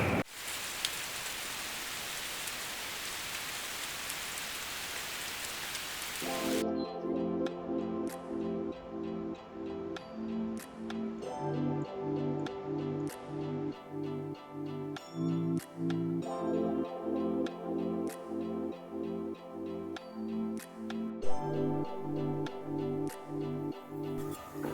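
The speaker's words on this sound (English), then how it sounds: "No reason to sit here and wait for it to quit raining" Rain falling on a truck camper at Cow Creek Campground at night, a steady soft patter of drops with irregular louder drips and clinks against nearby surfaces, constant and fairly quiet throughout.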